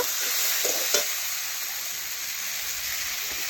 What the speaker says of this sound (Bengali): এখন লঙ্কার গুঁড়িও ভালোভাবে মিশিয়ে নেব আদা জিরে বাটা দিয়েছি